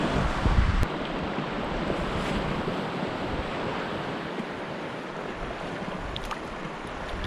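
Strong wind sweeps a remote wilderness lakeshore during a fishing trip, a loud, steady broadband roar buffeting the microphone with a stronger gust at the start and no voices.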